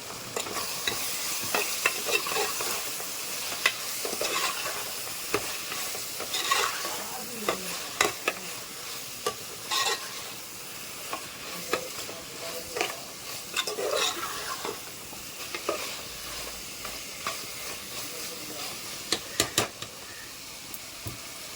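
Ginger-garlic paste sizzles and fries in a pan of vegetables for veg pulao while a utensil stirs it. The scraping and clinking scrape strokes come in an irregular rhythm over a steady soft sizzle, close and fairly quiet.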